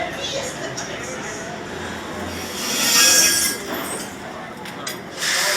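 The Dr. Diabolical's Cliffhanger roller coaster train at Six Flags Fiesta Texas rolls along its track with a rumbling clatter and metallic wheel squeal that swells loudly mid-way, with voices in the background.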